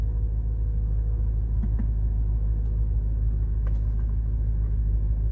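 A BMW car engine runs steadily at idle, a faint, even low rumble that holds without change throughout, no voices present.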